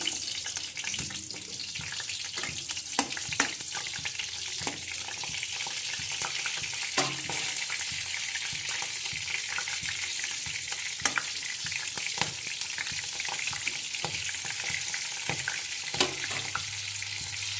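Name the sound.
cumin and green chilies sizzling in hot oil in a kadhai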